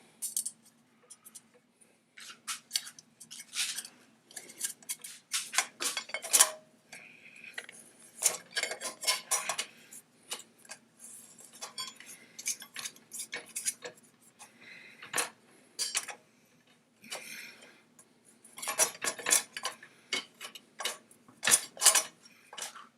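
Small metal clicks and scrapes from an Allen key turning a set screw under the band of an AR-15 free-float rail, irregular close-up ticking bursts with brief pauses, no talking.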